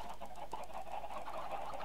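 Chickens in a video game cluck continuously in a busy, steady chorus, close and fairly loud, with no talking over them.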